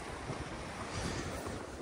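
Wind blows outdoors on a cool early morning, buffeting the microphone in uneven gusts that make a rough, close rumble across the whole moment, with no talking.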